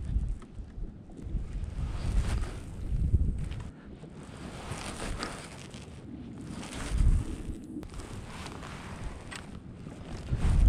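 Gusty wind by the Hunter River while fishing, buffeting and rushing in uneven waves that swell and fade, with low rumbling microphone noise throughout and no talking.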